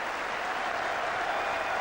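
A capacity cricket crowd at Old Trafford during an England v Australia 1981 Ashes Test applauds steadily, a dense, even wash of clapping held at moderate level without pause.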